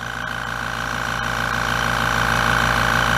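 Fortress Harbor Freight 1 gallon air compressor running steadily and loud, a constant motor hum with a slight rattle from the unit sitting balanced on a cart rather than a solid base.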